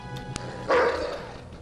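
A dog in the Macintosh version of Wolfenstein 3D lets out a single short, loud bark over quieter game sounds.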